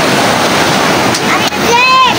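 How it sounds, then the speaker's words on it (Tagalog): Big ocean waves break and wash along a beach, a loud continuous roar of surf and wind buffeting the microphone, with voices briefly heard over it. "laki ng alon guys"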